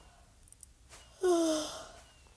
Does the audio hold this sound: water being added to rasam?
no